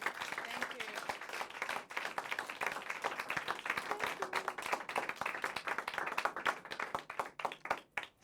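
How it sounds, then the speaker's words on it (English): An audience claps and applauds steadily for several seconds, a dense crackle of many hands, fairly faint and distant, with voices audible in the background. "please give her a round of applause"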